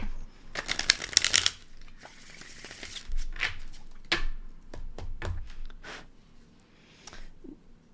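Playing cards are shuffled in quick riffling bursts, followed by softer taps and flicks of cards being handled close up.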